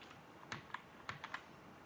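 Soft keystrokes on a computer keyboard while coding, five or six distinct taps spaced irregularly over low room hiss, quiet and without talk.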